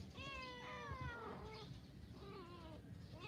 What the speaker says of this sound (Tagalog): Ayan po yung pusa namin, oh.